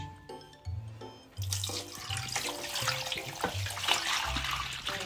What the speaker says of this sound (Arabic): هاي لح نحط المي